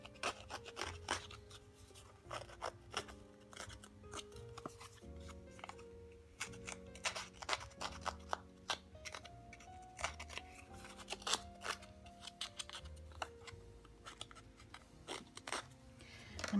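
Cardstock edges are being distressed for a handmade card, giving quick, dry scraping and rasping strokes in irregular bursts. The sound is close but quiet, with no talk.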